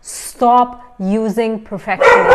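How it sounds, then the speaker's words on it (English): A dog barks and yips in short bursts close by, overlapping a person speaking. "Oh, I'm so sorry, that's my dog."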